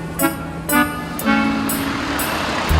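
A police team minibus pulls up, its engine rumbling steadily for a few seconds, with several sharp honk-like bursts recurring over the motor.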